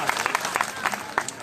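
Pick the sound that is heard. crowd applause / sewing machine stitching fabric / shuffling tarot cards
crowd applause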